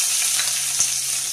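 Sliced onion sautés in hot oil for a beaten-rice and potato upma, a dense even sizzle close up with one soft stirring knock midway and no speech.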